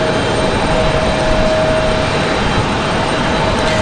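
A jet airliner at Raleigh Durham airport produces a loud, steady broadband roar with a faint whine, unbroken across the few seconds and heard alone without voices.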